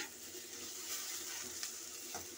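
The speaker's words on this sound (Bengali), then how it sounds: "আলুটা ভাজা হয়ে গেছে, আমি ঢ্যাঁড়সটা ভেজে নেব একসাথেই" Potato and okra frying together in a pan, a steady close sizzle with faint stirring scrapes throughout, no voices.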